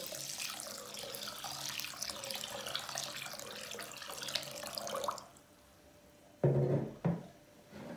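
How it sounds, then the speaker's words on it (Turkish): Cold water runs from a kitchen tap in a strong, steady hiss that stops abruptly partway through, followed by a couple of close splashes and clunks at the sink. "çeşmeden aldığımız bolca bir soğuk su"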